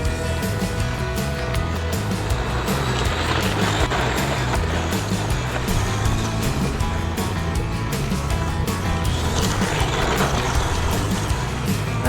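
Kyosho Beetle RC car upgraded with a 550 motor doing burnouts, its electric motor whining continuously and wheels scrabbling on the ground for a steady, moderately loud stretch, no speech.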